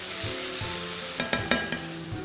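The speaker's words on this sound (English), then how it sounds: "Now saute the spices." Spices sauté in hot oil for Punjabi rajma masala, giving a steady close sizzle with a few sharp crackles and pops near the middle.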